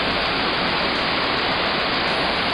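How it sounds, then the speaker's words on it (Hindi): A waterfall near Gangotri on the Gaumukh trek in the Himalayas roars as a loud, constant broadband rush of falling water, close and unbroken. "यहाँ पर आप देखिए किस तरह का झरना है, किस तरह की आवाज़ें"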